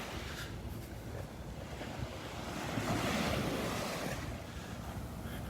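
Surf rolls onto Vanderbilt Beach, a continuous wash of breaking waves with wind buffeting the microphone, swelling louder midway through.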